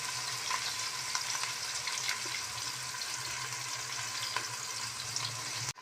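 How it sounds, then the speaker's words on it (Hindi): Onions frying in a pot for pulao, a steady close sizzle with faint hiss and light stirring scrapes running throughout, no voices. "उसको हल्के हल्के इस तरीके से चलाते रहना है ताकि ये लगे नहीं और हल्की हल्की ये ब्राउन हो जाए।"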